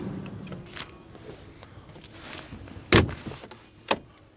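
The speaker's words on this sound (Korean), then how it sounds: "요렇게, 예, 창문을 열 수가 있죠. 뒷자리에서도." A push-to-open flush glass rear window on a Starex van gives a couple of sharp clicks and clunks as it is pressed and swung open from the back seat, set against a quiet cabin.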